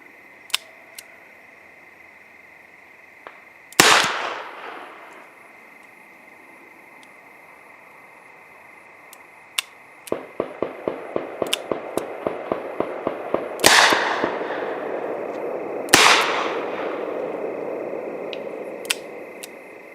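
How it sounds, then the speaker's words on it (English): Shots from a Smith and Wesson Victory .38 revolver fired at targets: three loud, sharp cracks spaced seconds apart, each with a ringing decay, plus a quick run of fainter clicks between them. "out of all 6 of those shots, only 2 of them were good."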